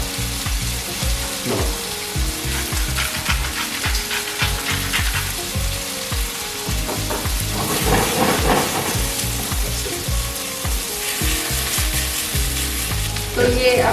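Gnocchi frying in melted butter in a pan, a continuous loud sizzle with crackling bursts and occasional scraping stirs, close up and without talk.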